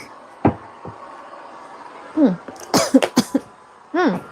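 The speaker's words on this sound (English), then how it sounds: "Why you cough like that?" A person coughs several times in quick bursts, a single cough first, then a cluster of harsh hacks, close and loud.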